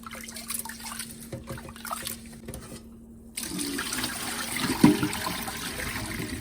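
About a cup of sticky rice being washed in water while making sweet coconut sticky rice: steady splashing, swishing and trickling, close by, growing louder and fuller partway through, with no talking.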